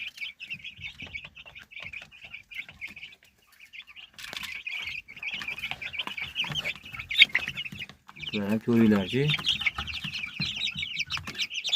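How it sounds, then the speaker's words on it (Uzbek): A flock of one-month-old chicks peeps steadily at close range, with a louder burst of clucking near the end and a person talking briefly over them. "Qo'ldan kelgancha boqdik endi 1 oylik bo'ldi jo'jalar."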